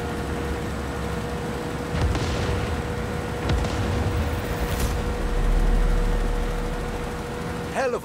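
Explosions boom during a Far Cry 6 video game scene, with a few sharp blasts and a rising low rumble amid steady background noise.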